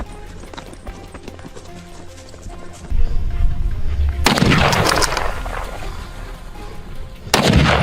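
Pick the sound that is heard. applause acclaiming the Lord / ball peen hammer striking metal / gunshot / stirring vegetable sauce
gunshot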